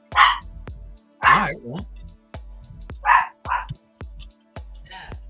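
A dog barks in bursts of one or two loud woofs, spaced about a second apart, close by indoors, with a person speaking briefly between the barks.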